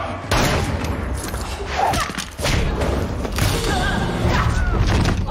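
Gunfire in a Warrior Nun TV episode action scene, a dense volley of shots with thuds and crashes running loud and continuous through the whole stretch, with a voice faintly mixed in.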